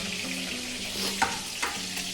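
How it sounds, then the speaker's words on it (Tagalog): Food fries in a covered home pan, giving a steady sizzling hiss throughout, with a couple of brief stirring clatters partway through and no talking. "Ito yung aking prito."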